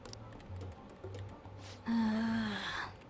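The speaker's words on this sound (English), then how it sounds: "That can't be a holographic keyboard, because he's making clicky noises." Clicky keyboard typing from a holographic-looking keyboard in the Persona 5 video game sounds as faint, scattered key taps under low game music, followed by a brighter electronic tone swell.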